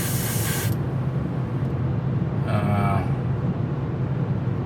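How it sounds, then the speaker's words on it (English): An airbrush spraying paint onto a model ship, a steady close hiss of air throughout with a faint higher spurt partway through. "the airbrush does a much better job than the paintbrush for something like this"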